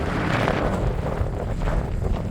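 Strong mountain wind at Jabal Samhan, Salalah, Oman buffets the microphone with a loud, continuous low roar that rumbles steadily throughout.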